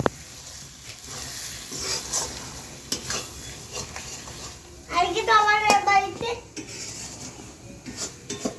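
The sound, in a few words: spices being fried and stirred in a pan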